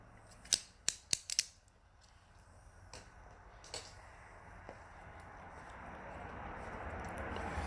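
A double guillotine cutter clips the end of a cigar: a quick cluster of four or five sharp, close snips and clicks, followed by a quiet room with faint rustling.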